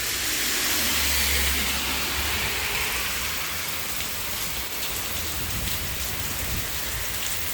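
Heavy rain pours steadily during a thunderstorm on a street in Hochelaga, Montreal, a dense continuous hiss of drops hitting surfaces with a low rumble underneath, loud and close throughout with no voices.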